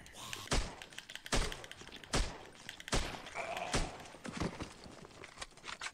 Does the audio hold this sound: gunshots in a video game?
yes